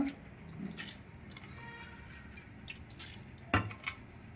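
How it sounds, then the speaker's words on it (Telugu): Soaked moong dal goes into a pressure cooker with faint, quiet wet squishes and drips, including one sharper splat partway through. "ఒక థర్టీ మినిట్స్ నానబెట్టుకున్న పెసరపప్పు కుక్కర్లో వేసేసుకుంటున్నా"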